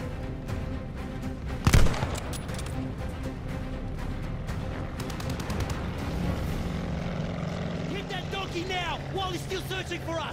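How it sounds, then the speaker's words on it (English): A plane roars overhead in the Call of Duty Vanguard campaign, a sustained engine drone mixed with game effects, a sharp burst early on and voices talking over it. "That's a plane!"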